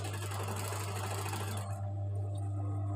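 Sewing machine stitching a folded blouse neck piece, a steady loud motor whir with rapid needle rhythm that runs continuously, easing slightly toward the end; no voices.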